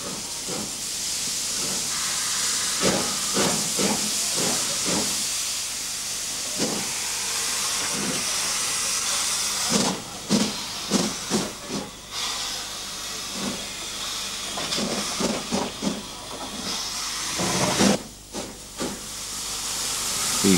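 Steam shunting locomotives at interchange sidings on a Spanish narrow gauge railway, among them a 1922 Belgian-built tank engine, hiss steadily while sharp exhaust chuffs come in uneven bursts, with a louder cluster of beats in the middle.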